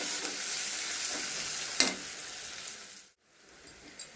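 Two large onions fry in a tempering over a medium flame for chilli rice, giving a steady close sizzle with a brief louder burst, then a short near-silent gap before the frying resumes more quietly.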